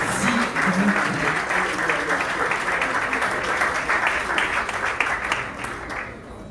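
An audience applauding at an event, dense sustained clapping that holds steady for several seconds and then begins to fade, with a voice briefly audible beneath it.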